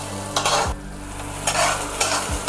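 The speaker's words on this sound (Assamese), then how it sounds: "এতিয়া মই ইয়াত অলপ কালো জিৰা দিছোঁ আৰু পিঁয়াজখিনি আৰু কেঁচা জলকীয়াখিনি অলপ ভাজি ল'ব লাগিব" Kalonji, onion and green chilli frying in oil, with a steady sizzle broken by several sharp stirring scrapes of a spoon against the pan, close and fairly loud.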